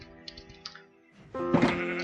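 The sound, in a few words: sheep bleat from a sheep head in Minecraft, video game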